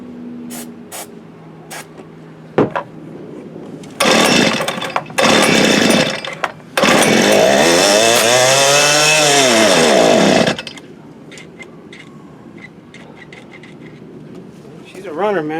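A 1983 Toro TC 300 string trimmer's small two-stroke engine sputtering, then catching in loud buzzing bursts that rev up and down, with a longer sustained run before it cuts out; voices talk nearby.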